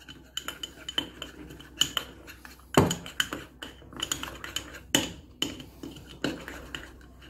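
A spoon mixes mayonnaise and curry sauce in a small bowl, producing irregular sharp metallic clinks and taps against the dish, close and fairly quiet, with no speech.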